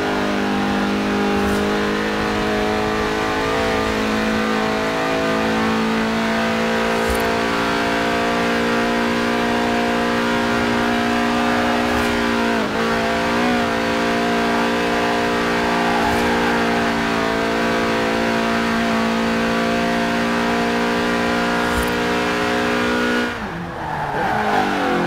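A lightweight Lotus with a 1.8-litre engine revving toward 8,000 RPM in Forza Horizon 4, a loud, steady high-pitched engine note held throughout with shifting harmonics and a brief dip near the end, no talk.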